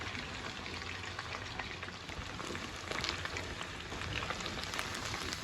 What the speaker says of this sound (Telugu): బాగా డీప్ ఫ్రై చేసేసి తీసేసుకోవాలి